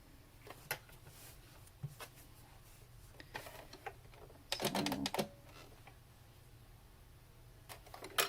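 Sewing machine stitching a shoe, heard as light scattered clicks and taps, then a short dense burst of fast mechanical rattling around the middle, with a few more faint ticks near the end.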